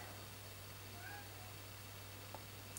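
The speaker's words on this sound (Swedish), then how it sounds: "Ursäkta katten i bakgrunden." A domestic cat meows faintly in the background, one or two short mews over a steady low hum in a quiet indoor room.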